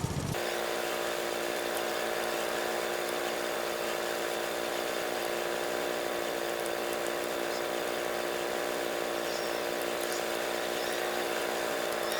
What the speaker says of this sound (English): It'd be cool if the bagger system on this mower actually worked and you can actually bag the grass.